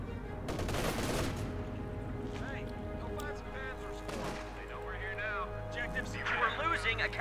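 Bursts of machine gun fire and scattered shots crackle through a Company of Heroes 2 battle, moderately loud amid other battle noise, with a commentator talking over the gunfire.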